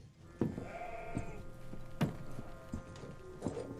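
Sheep bleating among a flock, a few separate calls spaced out over low background noise, fairly close.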